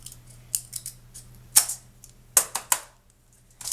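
A popsicle stick is snipped in half with scissors, heard as a few sharp, close snaps and clicks scattered over a few seconds, with a steady low hum underneath.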